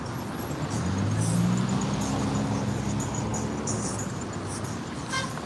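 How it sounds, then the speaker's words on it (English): Road traffic heading into Port of Spain rolls past continuously, with engines droning and swelling as vehicles pass near, plus faint higher clatter and a short toot-like tone at the end. "Across from here you can see all the traffic coming through here"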